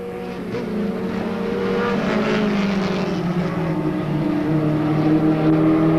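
Race cars circle Monadnock Speedway during a 1993 weekly race, several engines droning together in a steady, loud roar with shifting pitch as the pack passes.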